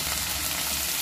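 Garlic, ginger, dried chilies and tomatoes sizzle and fry in a pan with a steady, close, crackling hiss for about a second.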